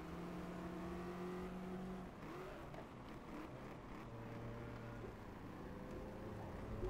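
A Lotus Cortina in the racing game GT Legends, on the Anderstorp South circuit, holds a steady engine drone that rises in pitch as it accelerates through the gears, with a continuous tyre and road roar underneath.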